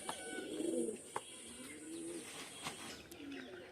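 Pigeons coo in a loft of breeding pigeons, including Pakistani Oman teddy and cotton fancy breeds: several low, rolling coos repeat across the stretch at moderate distance, with faint background noise and no talking.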